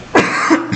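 A single short, harsh cough from one person, close and loud, followed by a brief quieter catch of breath.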